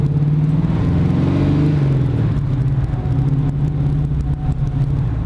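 A 1969 Chevy Camaro's engine and exhaust tone while driving, a loud, steady low rumble with rising revs, close and continuous with no talking.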